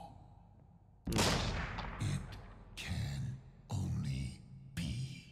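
Gunshots ring out in the horror video game Layers of Fear 2: four loud, booming shots at irregular intervals, each with a short echoing tail, sounding close.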